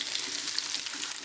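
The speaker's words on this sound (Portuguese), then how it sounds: "Deixar dar uma fritadinha, daí virar, para daí colocar o ovo fritar com ela." Sausages frying in a pan ahead of eggs being added, giving a steady, dense sizzle and crackle close by, with no talk.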